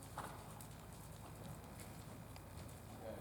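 A horse's hooves clip-clop steadily during a riding lesson in an arena, a continuous rhythmic patter at moderate distance over a broad, noisy background.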